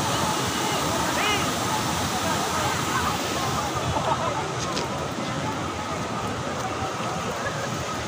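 A pumped artificial waterfall on a dirty river in Doña Remedios Trinidad, Bulacan, gives a constant close rush of water, with people talking faintly beneath it.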